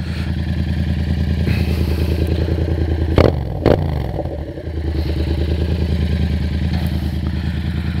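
A Yamaha FZ07 motorcycle idles in neutral with a steady, loud, close-up engine putter, broken briefly by a couple of clattering thumps before the even idle resumes.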